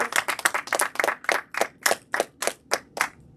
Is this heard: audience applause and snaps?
yes